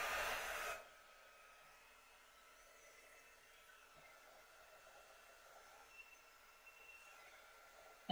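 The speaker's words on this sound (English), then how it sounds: "I'm just drying this" A handheld drying tool blows hard on a vinyl transfer on a door tag in a loud, hissing burst that cuts off after under a second, leaving a faint low hum.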